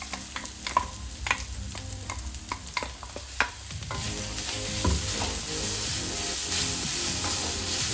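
Ground masala paste frying in a pan for a Karnataka-style beans palya, giving a loud, close sizzle with scraping stirs that settles into a steady hiss.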